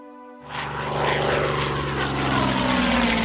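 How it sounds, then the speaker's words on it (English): Propeller warplanes drone steadily in a video game, a loud continuous engine roar that swells after a brief quieter start and holds throughout. "Got my planes."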